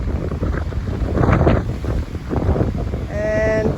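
Strong wind buffeting the microphone on a cliffside hiking trail, a continuous rumbling roar that swells and eases, with a brief tonal whistle near the end.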